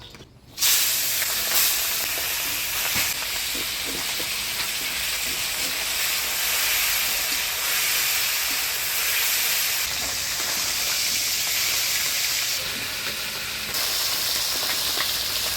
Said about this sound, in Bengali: ভোলা মাছগুলো ভাজি নিলাম, এবার নামিয়ে নিব।